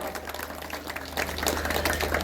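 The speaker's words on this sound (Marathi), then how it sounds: "सर्वप्रथम आपण टाळ्या देऊया" An audience applauds steadily for drama artist Damodar Joshi, a Dashavatar performer, at a temple felicitation, the clapping dense and continuous throughout.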